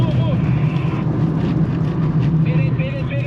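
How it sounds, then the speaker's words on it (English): BMW E39 sedan driven at full throttle while drifting: a steady, droning engine note holds throughout, heard from inside the car, with wind and road rush and a faint tire whine on top. "Turn in, full throttle."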